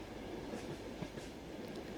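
Steady rolling rumble of a night train travelling through the Alps, with soft rhythmic wheel clacks over rail joints under a continuous low carriage drone, close and even throughout.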